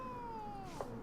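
A cat in The Witcher 3 lets out a single drawn-out meow with a falling pitch, close and clear over faint ambient game sound.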